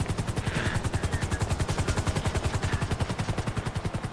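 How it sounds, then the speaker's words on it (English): Helicopter in Grand Theft Auto Online, its rotor chopping in a fast, even, loud pulse that runs throughout with no talk over it. "Why is Juba in a helicopter anywhere?"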